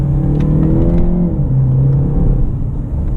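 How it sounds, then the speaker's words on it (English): A 2018 Jaguar E-Pace P250 First Edition with a four-cylinder engine and nine-speed automatic, in dynamic mode, accelerates hard: a loud, steady engine drone with rising and shifting tones, close and continuous, with no voices. "You have to really rev it out to get all the power, because there's not a lot of torque in this 4-cylinder engine"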